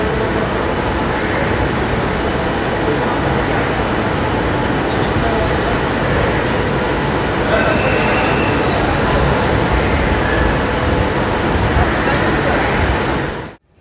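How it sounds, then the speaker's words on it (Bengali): A moving passenger train rumbles and rattles from inside, a continuous loud roar of wheels and carriage noise with a faint murmur of voices, cutting off abruptly at the end. "ট্রেন ছেড়ে দিল"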